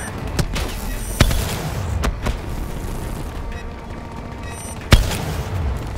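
Weapon gunfire in Call of Duty: Black Ops 3, sharp separate shots and booms scattered across the stretch over a steady busy game-noise bed, with a louder blast near the end.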